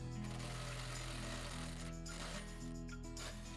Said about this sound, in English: So now let's go ahead and remove our locking bolts.